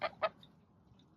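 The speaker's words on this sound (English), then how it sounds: "Here comes one of my oldest chickens." Two quick, close clucks from an Australorp hen, followed by a couple of faint high chirps over quiet background.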